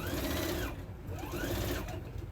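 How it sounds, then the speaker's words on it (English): Sewing machine stitching fabric for a sewing mat, running steadily with a fast mechanical whir that pauses briefly and then resumes. "So I'm just gonna sew this on."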